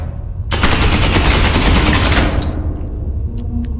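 Sustained automatic gunfire from a squad in the Space Hulk Ascension game, loud and rapid for about two seconds before cutting off into lingering echoes and faint ticking.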